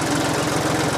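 Lawn mower engine running steadily and loudly up close, with a continuous rapid throbbing drone, during clover food plot weed work.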